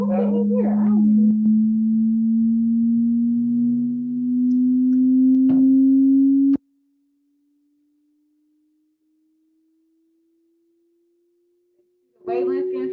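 A pure sine test tone glides slowly upward in pitch, loud and steady, with brief voices and clatter underneath at first; the tone then drops to near-inaudible faintness before voices return at the end.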